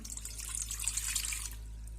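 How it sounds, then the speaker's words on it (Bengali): Water poured into a wok for boiling mangoes, a steady splashing, trickling stream that runs throughout over a low background hum. "আমগুলো সেদ্ধ করার জন্য আমি কড়ার মধ্যে দিয়ে দিচ্ছি জল"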